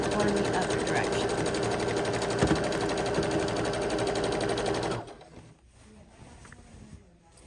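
A sewing machine stitches quilt fabric in a steady, dense mechanical whir for about five seconds, then stops, leaving quieter handling noises.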